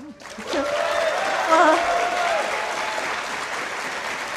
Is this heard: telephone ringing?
no